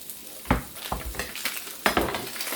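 Onions frying in a pan, with a steady sizzle under several sharp stirring scrapes and clinks of utensil on metal, close and moderately loud.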